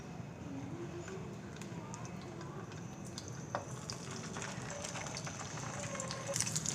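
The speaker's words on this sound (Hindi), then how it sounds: "अब कबाबों को जो है मैं हल्की आंच पर फ्राई करूँगी।" Shami kebabs coated in egg fry in hot ghee in a pan over low heat, a soft continuous sizzle with faint clinks and scrapes, fairly quiet throughout.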